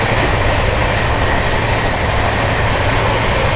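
A Humsafar Express train hauled by a WAG 9 electric locomotive runs at about 130 km/h between Gorakhpur and Anand Vihar, a loud continuous rolling roar with faint rhythmic wheel clatter and hiss heard from on board.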